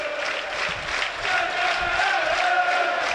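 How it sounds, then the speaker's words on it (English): Football crowd noise at Burnley v Man Utd, a loud, steady roar of a large stadium crowd rising slightly partway through, with no talk over it. "listen to the crowd now"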